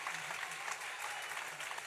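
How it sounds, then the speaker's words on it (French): Applause at a school prize-giving ceremony as an elementary class is honored, a continuous crowd of clapping, fairly quiet and distant, with faint voices mixed in. "un bel applaudissement pour la classe CE2"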